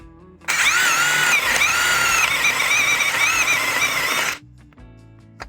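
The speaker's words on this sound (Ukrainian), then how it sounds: "Наступне свердло також пер'єве, діаметр 22" A Procraft PA12BL cordless brushless drill bores with a 22 mm spade bit, a loud whining motor note that rises sharply, holds for about four seconds under load with wavering pitch, then stops abruptly.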